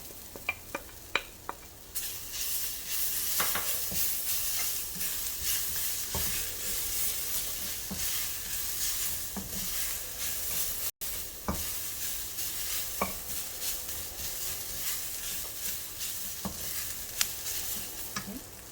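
Moringa leaves being stir-fried with coconut for poriyal, a soft continuous sizzle under frequent stirring scrapes and occasional light taps of a spatula, close and moderately quiet.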